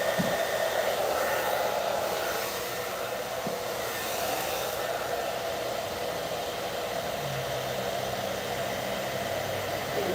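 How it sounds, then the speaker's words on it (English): A hair dryer blows steadily on natural hair during a burgundy quick weave styling, a loud, continuous whooshing hum that holds even for the whole stretch with no voices over it. "The blow dryer."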